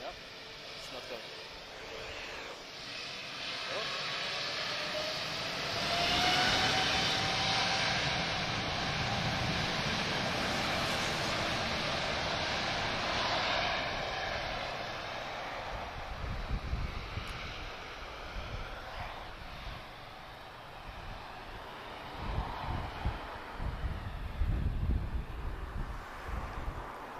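An airliner takes off at Lisbon Airport bound for New York. Its broad engine roar builds and holds for many seconds, then thins out into gusty wind noise on the microphone.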